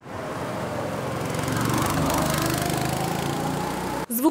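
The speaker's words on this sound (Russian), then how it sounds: "Звук мотора стал уже родным для Ильи Власова и Андрея Пуляева." A small kart engine buzzes loudly and continuously up close, a high rattling drone that swells slightly before cutting off near the end.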